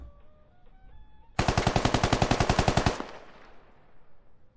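Automatic rifle fire in the tactical shooter Squad, a sustained rapid burst of about a dozen and a half close, loud shots fired through a window, ending abruptly and trailing into quiet ambience.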